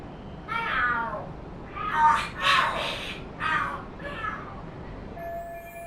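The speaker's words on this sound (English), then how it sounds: "The hell are there cats fighting?" Cats fighting in the video game Lost Judgment, a run of yowling, screeching cries in several bursts, fairly close and loud, with no talk over them.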